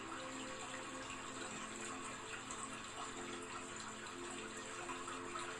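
A waterfall pours steadily over an immense rock into white foaming spray, producing a soft, continuous rushing hiss heard faintly and evenly throughout with no breaks.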